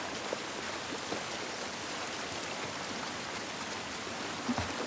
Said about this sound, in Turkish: Yağmur yağması hiç iyi olmadı.